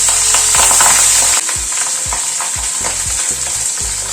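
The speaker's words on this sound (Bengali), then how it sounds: "এবার মাছটা ছেড়ে দিচ্ছি" Fish frying in hot oil in a pan while cooking Bengali fish curry, with a loud steady sizzle and repeated scrapes and stirring clatters throughout.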